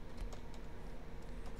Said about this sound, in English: you can just type in mpx merced spinup